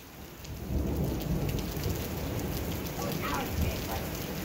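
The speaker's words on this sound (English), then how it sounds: "Thunderstorm came?" A mountain thunderstorm with steady heavy rain pouring onto surfaces nearby and low rumbling thunder rolling underneath, a dense continuous wash of sound with no talk.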